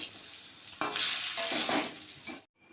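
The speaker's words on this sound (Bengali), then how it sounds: "লবণ, হলুদ, ভালো করে নাড়াচাড়া করে নেব।" Mango pieces get stirred with salt and turmeric in a hot frying pan, producing a close, loud sizzle with scraping spatula strokes that swell and fade before cutting off.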